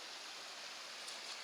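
Blackburn Creek flowing past a backcountry campsite, a steady rushing hiss of moving water, even and moderately faint throughout with no voices.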